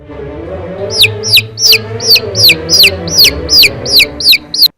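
A hen and chick give a run of about a dozen sharp, evenly spaced high chirps, loud and close, over a low background hum.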